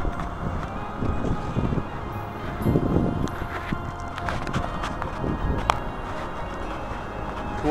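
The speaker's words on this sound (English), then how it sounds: "It's a windy, snowy day today." Wind gusts on a snowy day, a continuous rough buffeting across the microphone mixed with faint rustling and scattered soft thuds, fairly quiet throughout.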